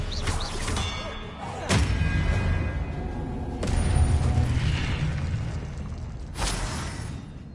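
Spell casting in the Hogwarts Legacy video game: three or four sharp bursts with booming impacts and rumbling, mechanical swells in between, fairly loud.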